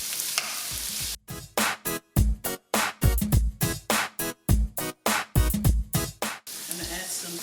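Canned corned beef (pisupo) sizzles in a pan with onions, broken by repeated bursts of scraping stirring in a steady choppy rhythm, close and fairly loud.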